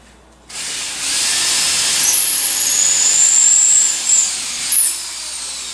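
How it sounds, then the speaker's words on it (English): A power drill bores a pilot hole into a wooden post at an outdoor barn garage, whining steadily at high pitch for about five seconds after starting, with a couple of brief speed changes near the end. "Pre-drill the post here."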